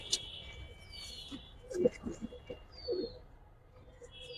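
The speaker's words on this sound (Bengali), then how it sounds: "এই যে ভাই মাদি কবুতরটা" A female pigeon cooing close by in soft low bursts, two clearer coos near the middle of the clip, with thin bird chirps and light room noise around them.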